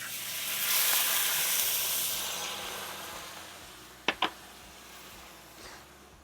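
Coconut cream goes into a hot pan and gives a soft hissing sizzle that swells and then slowly fades. Two sharp clicks sound near the four-second mark. Quiet overall, with no talking.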